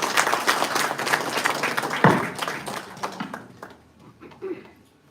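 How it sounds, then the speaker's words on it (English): Applause from an audience at a Liberal Democrats campaign launch in Luton, a fairly loud burst of claps with a sharp accent near the middle, tapering off and thinning toward the end. "Round of applause, ladies and gentlemen."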